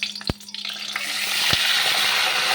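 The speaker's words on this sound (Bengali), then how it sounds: "আমি তেলের মধ্যে সব চিংড়ি মাছগুলো দিয়ে দিয়েছি" Raw prawns sizzle in hot oil in a wok, a steady loud broadband crackle that builds after two sharp clunks of the pan, with no talk.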